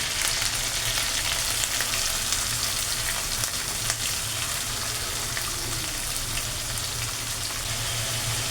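Spice paste fries in hot oil for a prawn and pumpkin malai curry, giving a steady, even hiss of crackling sizzle that holds without pause from start to finish.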